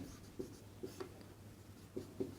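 Faint scratching strokes of a teacher writing out a maths answer in a classroom, a few short isolated marks spaced irregularly against quiet background hum.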